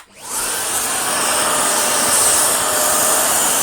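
A restored Dyson DC49 vacuum cleaner spinning up and running on a rug, a loud steady high-pitched whine and rush of air starting abruptly and holding constant.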